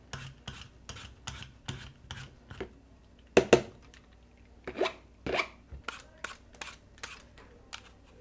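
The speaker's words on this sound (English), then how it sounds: "I'm peeling the apples with a potato peeler." Granny Smith apples being peeled with a potato peeler, a run of short, close scraping strokes in an irregular rhythm, with a few louder rasping pulls near the middle and no talking.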